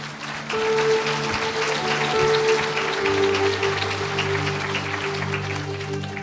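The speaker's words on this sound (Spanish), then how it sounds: "Fuerte aplausos" Applause from a church congregation, a dense steady patter of many hands with sustained tones and hum underneath, fairly loud and continuous.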